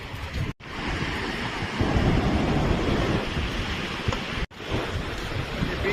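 Sea waves at Versova beach in Mumbai, a continuous loud rush of surf with heavy wind buffeting the microphone and two short dropouts.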